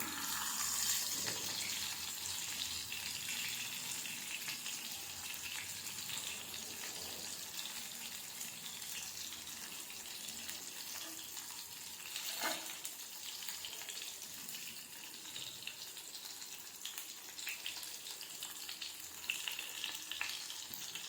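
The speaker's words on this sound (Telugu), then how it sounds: "ఇవి ఇంకా ఫ్రై అవుతున్నాయి ఫస్ట్ బ్యాచ్ అయిపోయింది సెకండ్ బ్యాచ్ వేస్తున్నా" Bitter gourd frying in hot oil: a steady, dense sizzle and crackle holds through the whole stretch at moderate level, with a few faint clinks along the way.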